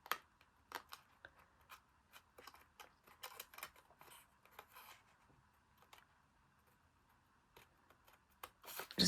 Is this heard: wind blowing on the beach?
no